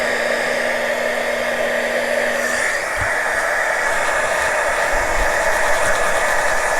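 A heat gun warms a leather-look cover, giving a steady, even whooshing blow of hot air that runs close and unbroken for the whole stretch, with no talking.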